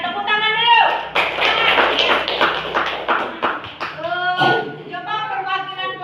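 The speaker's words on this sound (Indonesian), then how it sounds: "tepuk tangan dulu" Schoolchildren in a classroom clap their hands in a quick burst of sharp, close claps, with a teacher's voice speaking before and after.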